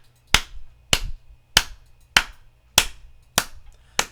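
Rhythmic hand clapping in an evenly spaced series of seven sharp, close claps, alternating fingers-to-palm and fingers-to-fingers strokes.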